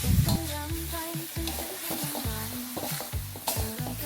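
Crispy fried catfish is stir-fried in curry paste with green peppercorns, sliced red chilies and torn kaffir lime leaves, giving steady sizzling and frying in a hot pan with repeated scraping strokes of a spatula, close and clear with no voices.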